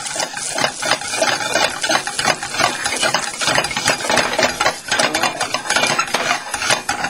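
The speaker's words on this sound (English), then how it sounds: "I'm going to stir this around." Asafoetida and ginger stirred in a cooking pan, a steady stream of utensil scrapes and clinks against the pan, close and busy throughout with no voice over it.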